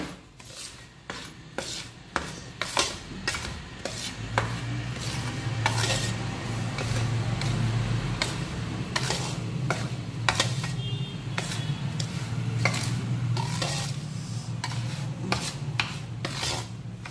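A spatula scrapes and stirs powdered sugar into a hot mixture in a pan, with rhythmic rasping strokes and a faint low sizzle underneath, close and continuous.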